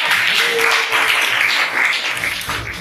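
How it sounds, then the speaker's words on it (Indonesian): A class in an economics teaching-practice session breaks into a sustained wash of clapping, fairly loud and continuous, with voices mixed faintly into the noise. "Tepuk tangan."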